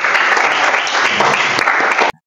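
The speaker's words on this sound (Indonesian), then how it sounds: "Baik, kita kasih aplaus" Audience applause at an Indonesian religious education teacher training session, a dense even clapping that holds steady for about two seconds, then stops abruptly.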